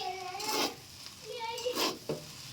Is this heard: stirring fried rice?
yes